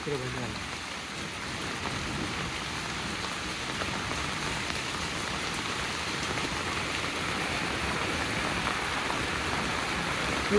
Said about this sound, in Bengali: বৃষ্টি খুবই বৃষ্টি হচ্ছে